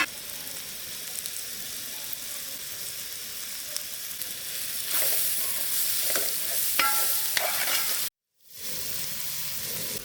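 Red chili powder roasts on a low flame for a pomfret fish and mango curry, giving a quiet continuous sizzle with faint stirring scrapes that grows a little louder, breaks off briefly, then resumes.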